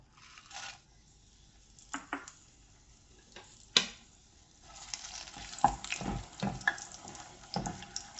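Chilies frying in oil over medium-low heat for sweet fish sauce, with gentle sizzling and intermittent stirring clinks and scrapes, fairly close and quiet, no talking.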